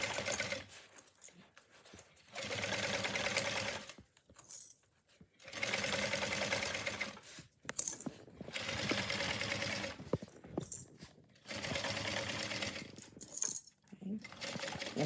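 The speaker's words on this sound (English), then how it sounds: "I will just back stitch and then just sew across until I get to the other 1/4 inch mark." A sewing machine back stitches and then sews across a fabric bag in several bursts of fast, even whirring, with short pauses between runs and a few clicks as the machine stops and restarts.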